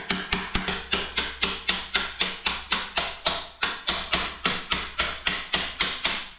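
A hammer tapping out the axle of a Sur-Ron Light Bee electric motorbike, a fast steady series of about twenty-five sharp metallic strikes, close and alone.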